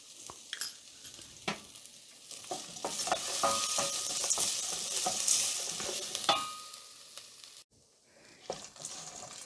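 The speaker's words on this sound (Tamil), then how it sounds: "இதையெல்லாம் நல்லா வறுத்துட்டு ஆஃப் பண்ணிடலாம்." Spices and asafoetida frying in hot oil for lemon rice: a steady, bright sizzle with scraping stirs and clinks of a spoon against the pan, easing briefly near the end.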